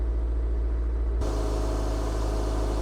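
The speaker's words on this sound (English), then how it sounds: "it's a cold start, so the RPM is still a little bit higher" A 2003 Toyota MR2 Spyder TRD engine idles on a cold start with a steady low rumble, its pitch shifting partway through as the raised revs settle, close and continuous with no voices.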